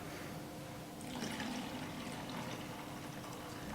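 Vitamin water is poured into a container during a water demonstration, a steady soft splashing and trickle that swells after the first second and runs on faintly without talk.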